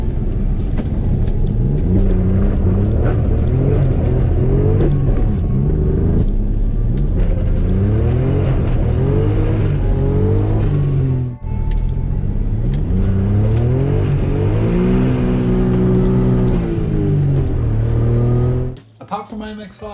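A Suzuki Cappuccino driven hard on a racetrack, its small engine loud and close, revving up and down through rising and falling pitch sweeps as it accelerates and shifts, briefly dropping off near the end.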